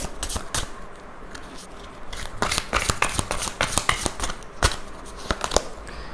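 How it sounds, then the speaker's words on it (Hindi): Crisp riffling and flicking of a tarot card deck being shuffled by hand, with a series of sharp papery snaps and slides, close and fairly loud with no talking. "एक ही कार्ड चाहिए मुझे इस डेक से"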